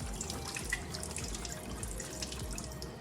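Tap water running into a kitchen sink while shrimp are rinsed, a soft steady splashing stream with small dripping sounds, close and quiet, no voices.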